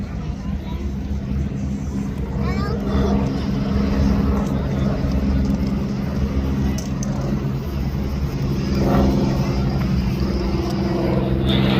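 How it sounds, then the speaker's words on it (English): A Pawnee tow plane pulls a glider overhead at an air show, a steady broadband engine drone holding at an even level throughout, with faint crowd murmur underneath. "From our air show left, our two aircraft are again approaching"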